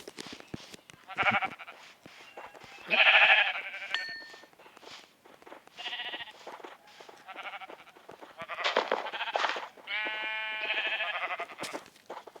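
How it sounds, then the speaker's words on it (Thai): Sheep bleat repeatedly in a farm pen in Minecraft (Windows 10 Edition), several overlapping calls coming in bursts, fairly loud and close, with no talking. "ส่วนฟาร์มแกะอยู่ตรงหน้าผมเนี่ย"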